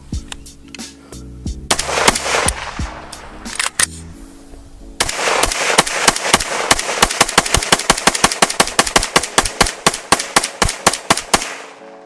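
An AR-15 rifle fires rapid single shots from a 30-round magazine, sharp loud cracks coming close together: a few spaced shots at first, a brief pause, then a long steady string of evenly timed reports until the magazine runs dry.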